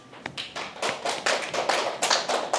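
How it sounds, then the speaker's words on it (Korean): A congregation at a church sermon breaks into applause, a burst of many hands clapping close by that builds into a steady, dense patter, with no talking. "박수."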